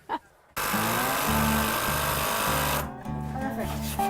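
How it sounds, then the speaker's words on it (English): A power tool runs loud and close in a buzzing, rapidly pulsing drone, revving in repeated bursts with short pauses between them. "Power tools are always satisfying."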